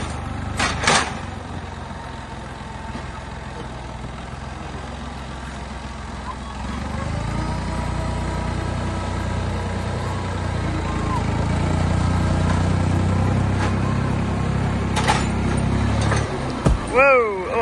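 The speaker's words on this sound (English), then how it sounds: "his tractor's lifting off the ground" Tractor engine working in a forest, a low rumbling drone that grows louder and heavier midway, with clinks and knocks over it and people talking excitedly throughout.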